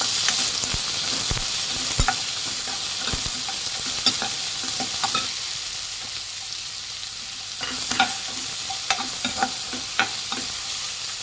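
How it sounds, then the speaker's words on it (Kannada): Onions frying and being stirred in a pan for beetroot palya, a steady sizzle with repeated sharp scrapes and clinks of the spoon against the pan, close and alone. "ಈರುಳ್ಳಿ ಹಾಕೊಂಡು ಚೆನ್ನಾಗಿ ಫ್ರೈ ಮಾಡಿ."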